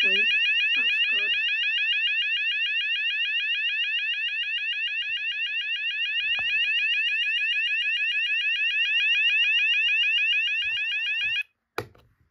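A fast-sweep alarm sounder on a demo board gives a loud, shrill, rapidly warbling electronic tone. It holds steadily for about eleven seconds, then cuts off abruptly, followed by a brief click.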